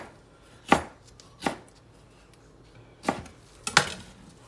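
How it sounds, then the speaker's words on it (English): A knife cuts cored jalapeño peppers into rings on a board, four crisp chopping knocks spaced irregularly over a few seconds, close and clear with no talk. "we're going to take these and we're just going to cut them into rings"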